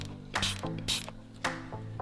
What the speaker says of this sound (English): We're gonna spray some of that stuff on there